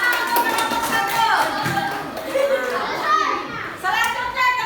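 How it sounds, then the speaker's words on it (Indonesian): Children in an Indonesian classroom clap for the first group after its presentation, a mix of patting hands and children's voices in a lively room. "Tepuk tangannya mana untuk kelompok 1?"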